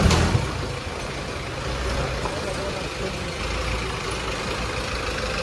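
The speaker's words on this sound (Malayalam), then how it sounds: "നമ്മളെ ജീപ്പ് ഇതാ വണ്ടിനെ ജസ്റ്റ് ഒന്ന് കെട്ടി വലിച്ചിട്ടുള്ളൂ." A jeep tows another vehicle with a rope, its engine giving a continuous rumbling drone with broadband road noise, steady and fairly close throughout.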